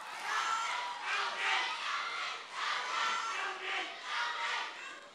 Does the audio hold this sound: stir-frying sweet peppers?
no